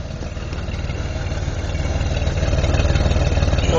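A 1977 Oldsmobile Cutlass Supreme V8 idles steadily, its exhaust giving a low rhythmic burble that grows slightly louder and closer toward the end, with no voices over it.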